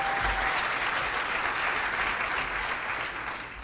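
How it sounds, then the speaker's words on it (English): A crowd at a Making Strides of Sarasota–Manatee kickoff reception breaks into steady, dense applause that holds throughout and then tapers slightly at the close. "Big round of applause for them."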